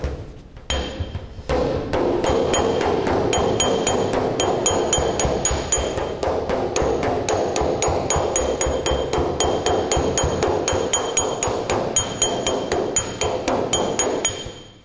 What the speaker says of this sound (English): I'm going to be slightly hammer off dolly, slightly hammer on dolly